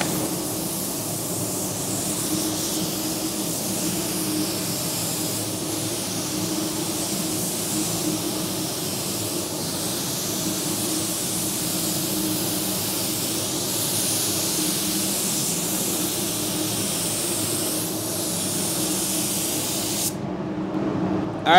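A Sagola 3300 GTO spray gun laying down automotive base coat gives a continuous, close, loud airy hiss that holds steady for about twenty seconds before cutting off abruptly.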